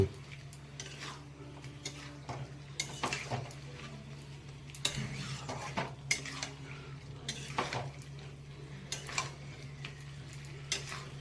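Boiled Chandramukhi potatoes stirred into fried masala in a pan, with a spatula repeatedly scraping and knocking against the metal under a faint steady sizzle.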